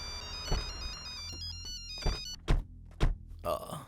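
A mobile phone rings with an incoming call, a repeating electronic ringtone melody that plays steadily and then cuts off, followed by a few dull thumps and handling knocks nearby.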